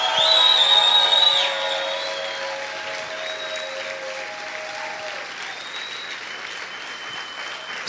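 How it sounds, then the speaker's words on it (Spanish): Church congregation applauding during a Spanish-language worship service, a dense wash of clapping that starts loud and settles to a steady, slightly softer level, with sustained tones from music or voices ringing over it. "Siga aplaudiendo, haga ruido de alabanza en esta hora."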